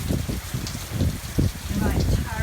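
Rain dripping and splashing off a house porch during Hurricane Matthew, a steady close patter of drops with wind gusts, continuous and fairly loud.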